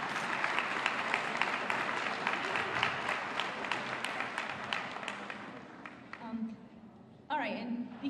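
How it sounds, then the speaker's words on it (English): A steady round of applause from a gathered audience at an LAFD girls camp event fills most of the stretch, fading out before a voice speaks near the end. "let's give them all a round of applause"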